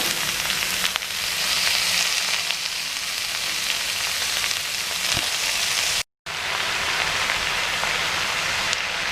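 Spinach and amaranth greens sizzle steadily as they shallow-fry in a pan, a dense, continuous hiss that holds even throughout, broken by one brief dropout near the end.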